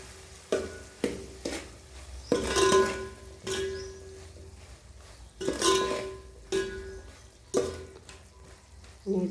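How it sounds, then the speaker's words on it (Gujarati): Spices stirred into hot oil in a pan for guar bean sabzi, with red chili and coriander powder: intermittent scraping stirs and soft sizzling in short bursts, a voice speaking now and then over the cooking. "બધા મસાલા મિક્સ કરીશું."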